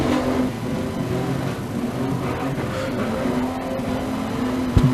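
A race car engine bangs along the back straight during a race, a loud, rough, continuous roar close by with a sharp bang at the end.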